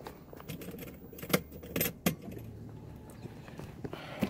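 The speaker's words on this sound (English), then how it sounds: "what we're gonna now do is turn in the ignition key on to position 2" Keys jangle and click as an ignition key is turned to position two in a Mercedes ML, with a few sharp metallic rattles and a faint car interior hum.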